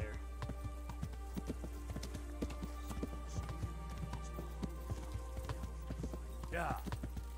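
Horses mill about a small rural settlement called Neuhof in Kingdom Come: Deliverance, with repeated clip-clop hoofbeats through the clip and a brief neigh near the end, heard over a constant low hum.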